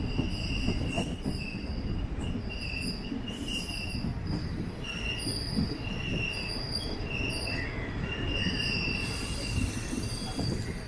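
Nilambur Road–Kottayam Express (16325) pulling into a station, with loud steady rumble and sustained high wheel squeal rising and fading across the clip, no talk.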